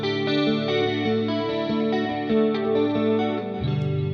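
Electric guitar chords played through the effects processor of a Synido Live Dock A20, with a shimmering, chorused, slightly distorted tone, steady and clear with no talking.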